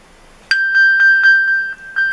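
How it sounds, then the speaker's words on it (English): A phone pinged from an Apple Watch, giving a series of bright, clear electronic chime tones that repeat in a quick even rhythm, close and alone. "if you press this phone thing at the bottom, the phone bar, it'll like ping your phone."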